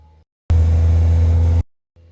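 A 2013 Peugeot Partner engine held steady at 2500 RPM during DPF cleaning, a loud, even, low mechanical drone lasting about a second, with quieter hum before and after.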